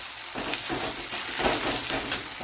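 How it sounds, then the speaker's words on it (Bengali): Onions frying in a pan for lemon chicken, a steady crackling sizzle with soft stirring scrapes throughout, close and fairly loud, no voices. "এই পেঁয়াজ ভাজা হচ্ছে যখন"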